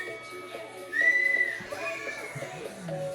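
A whistle is blown once in a home basement workout, a steady shrill tone of about half a second, then a softer wavering whistle, over background talk and room noise.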